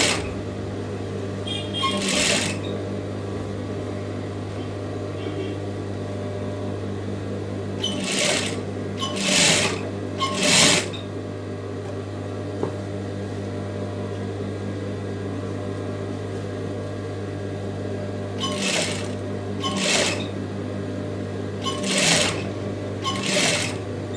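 A tailor's sewing machine stitches a round piping collar on a churidar neck, a steady low hum running throughout with several short bursts of fast clattering stitching.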